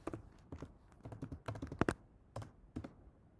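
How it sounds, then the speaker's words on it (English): Typing on a computer keyboard while setting up a web server written in C: a close, quick irregular run of key clacks with short pauses between bursts, no talking. "let's type it in again."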